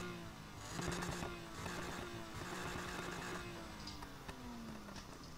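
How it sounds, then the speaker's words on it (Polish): A BMW M2 engine in Need for Speed Heat revs and drones fairly quietly, its pitch rising and falling through gear changes with a brief surge near the start, heard alone without any talk. "z tego BMW jestem dumny, z dźwięku silnika,"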